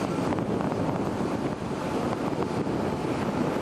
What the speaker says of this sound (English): There's a reasonable amount of wind.